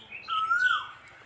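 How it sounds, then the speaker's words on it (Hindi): A bird sings outdoors, one clear sustained whistled note rising slightly then falling, with faint chirps around it in a quiet setting, close and fairly distinct. "चिड़िया गा रही है"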